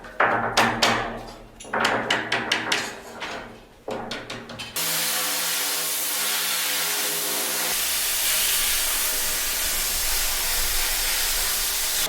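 A steel tank is cut for a 1000-gallon smoker firebox: a run of sharp metallic taps and clanks gives way to a loud, steady hissing roar of cutting that carries on unbroken to the end.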